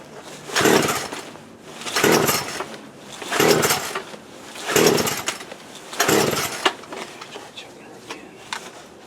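Poulan Pro 42cc PP4218A chainsaw being pull-started: five loud rasping recoil pulls at regular intervals, each a burst of sputtering noise, with the engine failing to catch between pulls.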